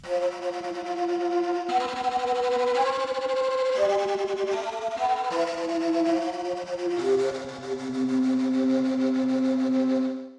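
A breathy, flute-like sampled tone plays sustained notes that shift pitch in steps, with an echoing, synthetic character and no talking.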